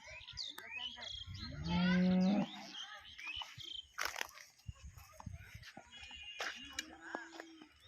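A pregnant Jersey cow gives one loud, drawn-out moo close by, followed by quieter farmyard noises and scattered thumps.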